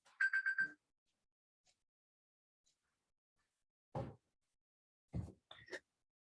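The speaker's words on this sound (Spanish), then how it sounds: "Puse una alarma en mi teléfono" A phone alarm rings in short repeated tonal bursts for under a second, loud and close in a quiet room, followed later by brief shuffling sounds and a short voice.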